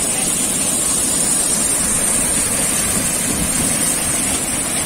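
Neer waterfall at Rishikesh roaring with a loud, steady, close rush of falling water, a dense unbroken wash with no voices over it.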